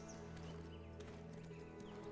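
A tier 10 horse named Spring in Black Desert Online clip-clops at a steady walking pace under a faint, continuous musical backdrop. The hoofbeats sound soft and fairly quiet, and no voice is heard.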